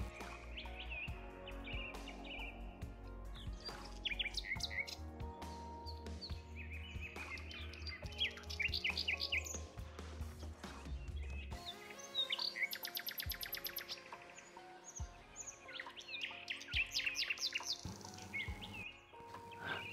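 Many forest birds sing and chirp together in rich, overlapping calls, with bright trills and repeated tweets layered over a steady low background hum throughout.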